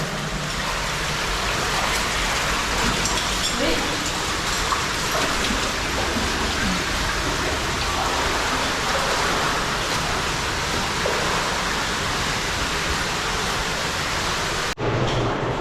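An underground stream in a cave tributary spills through a chain of small natural pools, a loud, dense, unbroken rush of water that continues to the end, where it suddenly cuts.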